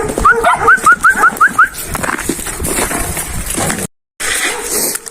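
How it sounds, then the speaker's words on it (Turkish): Several dogs bark and yelp nearby in a rapid flurry, followed by continued scuffling and noisy outdoor commotion. "Bir sürü köpek var karşımızda"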